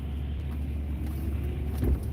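A snow plow truck drives along a road in snow and freezing rain, a soft, steady low rumble of engine and tires that swells briefly louder near the end.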